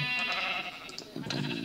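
Minecraft sheep bleating in a short burst, a wavering harmonic bleat that fades then returns slightly louder, with game ambience underneath.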